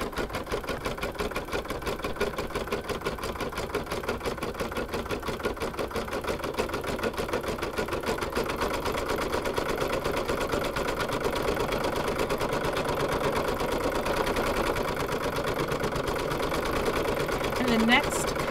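An embroidery machine stitches out an appliqué Easter egg coaster in the hoop, its rapid, even needle rhythm running steadily and unbroken at a moderate level with no other sounds.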